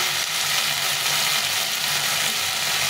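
Rohu fish curry spice paste frying with cauliflower and potato, a steady close sizzle and hiss that stays even throughout, with no voices.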